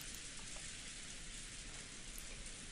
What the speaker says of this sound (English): noticing the sounds of the raindrops beating on the window